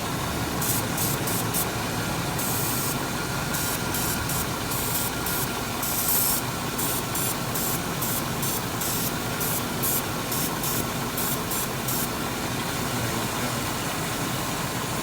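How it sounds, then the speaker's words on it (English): Repeated short hissing sprays of starting fluid onto the intake manifold of a running 1997 Chevrolet Suburban engine with lean codes burst over its steady rumble, in quick irregular pulses close by. "I'm going to spray at the bottom portion of the intake manifold on this side again"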